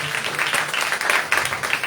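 A church congregation claps together during a sermon, a brisk, fairly loud burst of many hands lasting under two seconds.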